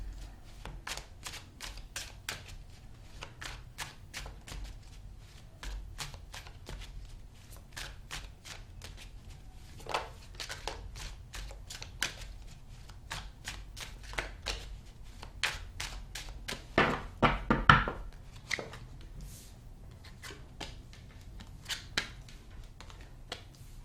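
Tarot cards shuffled by hand, a long run of quick, crisp riffling flicks and soft slaps, close and fairly quiet, with a denser flurry near the end and no talking.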